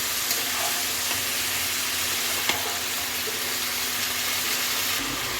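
Eggplant fries in hot oil for a small batasi fish curry, giving a loud, steady, close sizzle that runs unbroken from start to end with no voices.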